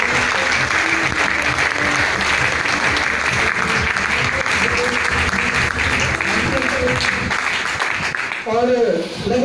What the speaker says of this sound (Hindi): ऐसी ही एक वेलकम जोरदार ताली के साथ दोबारा से प्लीज वेलकम करते हैं।